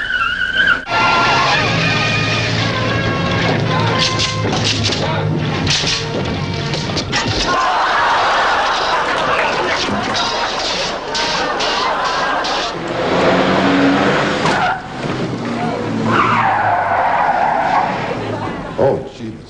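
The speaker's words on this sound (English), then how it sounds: "So when this car actually comes at you, it's going to be 60." A stunt car speeds in at about 60 and skids, tyres squealing loudly over roaring engine noise, with thumps and a possible crash, all under continuous shouting and talk from people nearby.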